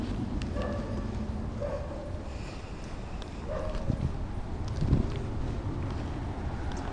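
Dogs bark a few times in the distance on a quiet residential street in a Mexico City neighborhood, faint under steady wind noise.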